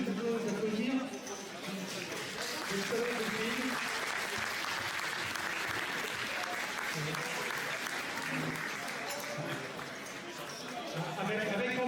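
Sustained applause fills the room at a live poker tournament main event, steady clapping from a crowd mixed with chatter, fading slightly in the middle and swelling again at the end.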